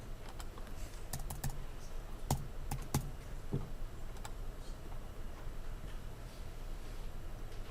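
Keys clatter in short, irregular bursts as a zip code is entered on a computer keyboard, the crisp taps close and fairly quiet over a low steady room hum, with pauses between strokes.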